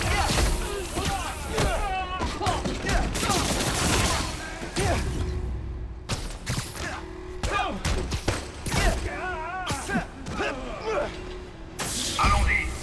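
Gunfire bursts and grenade blasts in the Spider-Man: Miles Morales video game, repeated sharp thumps and crackling shots through the whole stretch, with enemy voices shouting over the combat.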